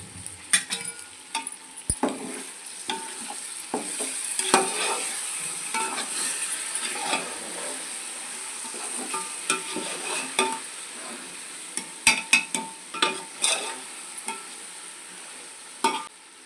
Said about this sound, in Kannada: ಎರಡು ಸ್ಪೂನಷ್ಟು ಮೊಸರು ತೊಗೊಂಡಿದ್ದೀನಿ ಇದನ್ನ ಹಾಕ್ತಾಯಿದ್ದೀನಿ